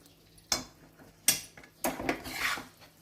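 Ragi flour roasted in ghee in a pan for laddoos, stirred with a spoon that scrapes and clinks against the metal in a few sharp, separate strokes over a quiet background.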